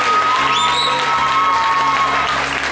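A church congregation applauds and cheers for the Lord, a loud, dense, continuous wave of clapping and voices filling the hall throughout.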